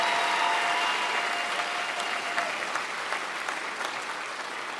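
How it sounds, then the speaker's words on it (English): A Folsom Lake College commencement crowd claps together, a thick, even roar of applause that holds steady and gradually tapers toward the end, with a few individual claps popping out. "let's give her another round of applause"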